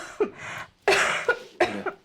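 A woman coughs three times in quick, harsh bursts, close and fairly loud, with short silences between them.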